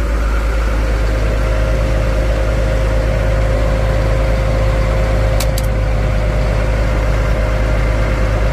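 A 1994 Caterpillar 953B track loader's diesel engine idling steadily, a loud continuous low rumble with a constant hum, heard close up and alone, with a brief faint click midway.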